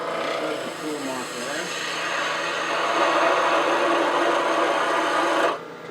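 A wood lathe spins a multi-axis twig pot while a turning tool refines its neck, a steady close rasping whine of cutting that holds level, then drops away near the end.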